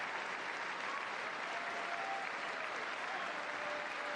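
Sustained applause from a large audience in the chamber at a State of the Union address, a dense, steady wash of clapping that fills the whole stretch at even loudness.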